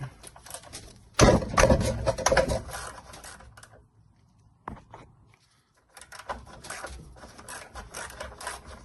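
A socket wrench loosens bolts on a Stihl TS420 cut-off saw, loud close scraping and ratcheting bursts separated by short quiet pauses.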